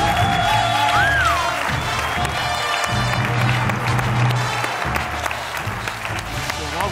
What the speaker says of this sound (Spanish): un fuerte aplauso para Caimo Yeray Betancourt, por favor.